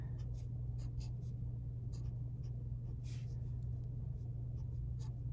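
Pen strokes scratch across paper while someone writes words on a drawn building in a children's paper art project. The short scratchy bursts come and go close up over a low steady hum.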